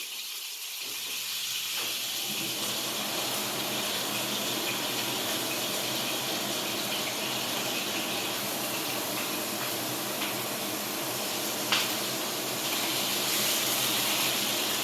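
Pork browning in a frying pan, a steady broadband sizzle and hiss holding at an even level throughout, close and continuous with one brief sharp crackle near the end.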